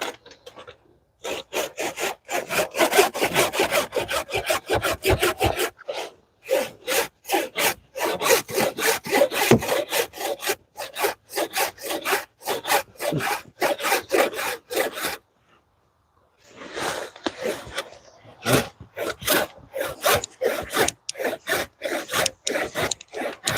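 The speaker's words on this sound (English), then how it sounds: "I'm cutting this tree down. We're cutting it." A hand saw cuts down a tree outdoors in steady back-and-forth strokes, rasping loudly through wood with a short pause near the middle before the rhythmic sawing resumes.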